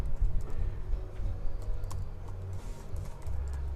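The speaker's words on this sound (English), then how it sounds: "Let's just type on here" A social media post being typed by tapping on a screen: faint, sparse taps and clicks scattered over a steady low rumble, with no talking.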